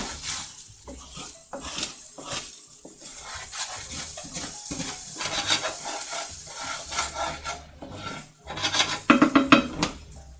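Rice browns in butter in a skillet, with continuous close scraping and rubbing of a utensil over the pan, uneven bursts of stirring, and a louder clatter of metal near the end.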